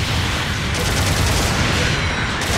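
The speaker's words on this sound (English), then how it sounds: "Long-range supporting fire incoming." A long-range supporting fire barrage in Gundam Battle Operation 2 fills the whole stretch as a loud, continuous roar of overlapping blasts and rumble with no letup.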